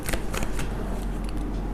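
A tarot card is pulled from a deck, producing a few crisp, close papery flicks and slides in quick succession, with a low hum beneath.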